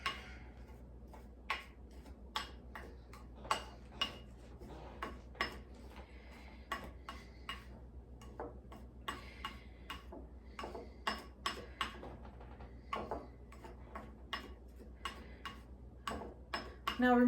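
A spoon clinks and scrapes against a container while dry chili ingredients are stirred together for a meal in a jar. The taps are quick and irregular and come close up over a quiet background, with no talking.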